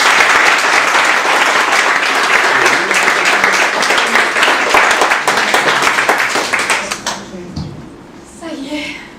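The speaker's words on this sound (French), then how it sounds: "Applaudissez-la bien fort, Pauline Poinmu." Audience applause for a performer on stage, a loud, dense, nearby wash of clapping that holds steady and then thins out and fades, with voices heard at the end.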